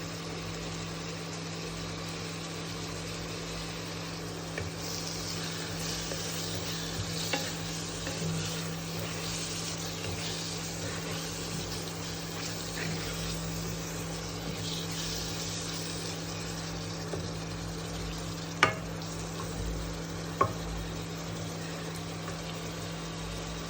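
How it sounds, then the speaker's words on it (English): An egg fries in oil in a pan while being stirred, a steady soft sizzle running throughout with a few sharp clicks of the utensil against the pan. "Stir it well, adding some oil."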